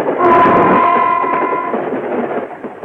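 A loud rumbling roar of a train with a sustained tonal whine, steady and close, slowly fading over a few seconds.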